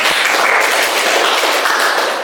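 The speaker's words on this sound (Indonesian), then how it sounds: "tepuk tangan buat Bella" Applause for a student named Bella in an Indonesian classroom, steady dense clapping from a group filling the whole moment at a close, loud level.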